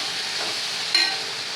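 Whole tomatoes sautéing in a pan for tomato chutney give a steady, even hiss of frying that runs throughout, with one brief brighter burst of sizzle partway through.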